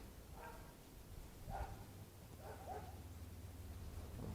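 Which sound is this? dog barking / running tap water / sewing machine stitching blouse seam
dog barking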